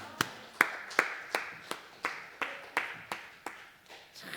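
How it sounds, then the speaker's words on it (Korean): Congregation at a fasting prayer house church service clapping in a slow, even rhythm, about ten distinct claps spaced roughly half a second apart, moderately near and fairly quiet with no talk over them. "박수 한번 칩시다"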